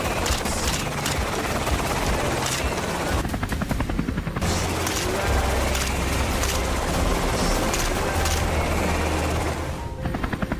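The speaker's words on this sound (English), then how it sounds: "Gunfire thundered across the field" Gunfire rings out across an open field during a wild boar hunt, a dense, continuous rattle of rapid shots mixed with a steady mechanical drone, loud and close throughout.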